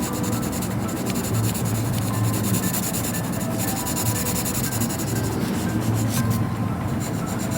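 Pencil shading on paper, a close, steady scratchy rubbing of graphite strokes laid down continuously in a smooth repetitive rhythm, with no voices.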